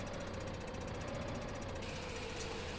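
A tractor engine drives along in Farming Simulator 15, a loud, steady low mechanical drone with a constant knocking rumble throughout and no talking.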